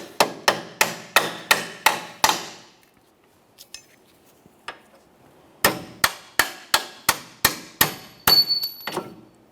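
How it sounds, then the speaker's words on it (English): Sharp metal-on-metal hammer blows strike a punch to drive out a mounting bolt on a 2007-2017 Jeep Patriot 2.4L rear CV axle, in two quick rhythmic bursts of about eight strikes each, separated by a pause with faint clinks. "can use a hammer and punch to drive this out of position."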